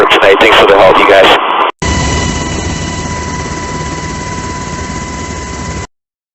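Coast Guard rescue helicopter rotor roaring loud and steady at close range during a night rescue, a continuous engine drone with strong tonal whine running unbroken for several seconds after a brief burst of radio-like chatter.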